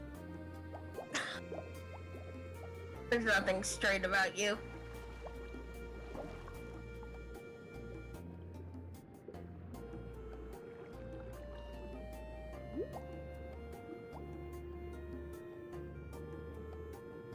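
Underwater ambience from Minecraft, a continuous low watery murmur with drips and bubbling, plus a busy splash of water noise early on, while people talk over it.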